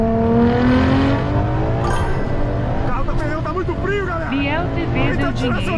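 A Ferrari LaFerrari accelerates hard in second gear, its engine note climbing loud and continuous with rising harmonics and quick shifts, while excited voices and a crowd-like babble carry on over it.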